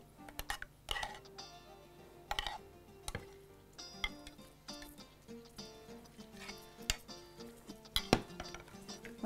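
A spoon stirs rice mixed with a couple of spoonfuls of sauce in a pot, giving repeated metallic clinks and scrapes in an irregular rhythm, close and moderately loud, with no voices.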